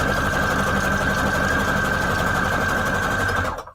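A sewing machine runs steadily, stitching scrap paper strips for junk journal tabs, a continuous close mechanical whir with a faint rattle that stops abruptly at the end.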